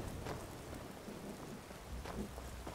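Steady rain patters under soft rumbles of thunder in The Elder Scrolls V: Skyrim, fairly quiet and continuous, with no voices.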